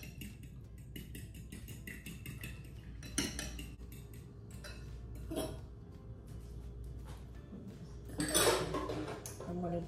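Muffin batter with vanilla being mixed in a bowl: scattered light clinks and taps of a utensil against the bowl, faint and close, with a louder rattling flurry near the end.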